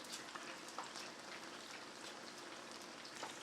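Chicken pieces for Korean fried chicken fry in hot oil, a faint, steady crackling hiss with scattered light pops throughout.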